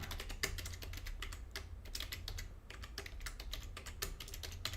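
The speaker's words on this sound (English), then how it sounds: "Just typing it in and clicking tab until we get to the end." Rapid, steady typing on a computer keyboard while entering data into an Excel spreadsheet, with dense clicking keystrokes close by and no speech.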